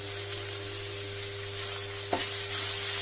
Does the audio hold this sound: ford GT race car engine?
no